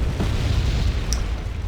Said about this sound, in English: And this is the guy's ridiculous artillery.